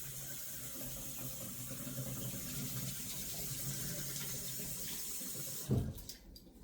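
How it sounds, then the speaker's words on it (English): Hot water running steadily from a tap into a sink, a continuous even hiss and splash close by, ending with a brief louder splash and clunk as the flow shuts off. "let's get some hot water going"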